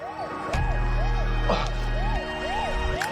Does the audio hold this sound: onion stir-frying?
no